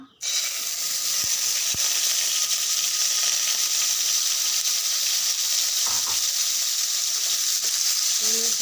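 Paneer pieces fry in oil for an Odia potol paneer jhalsa, a loud, steady sizzle that starts abruptly and hisses on without a break, with a few faint clinks underneath.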